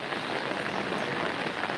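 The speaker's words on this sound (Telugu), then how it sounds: "చిరుజల్ల వర్షం కురుస్తుంది" Light village drizzle falling steadily, a soft even hiss of fine raindrops on surfaces with no other sounds.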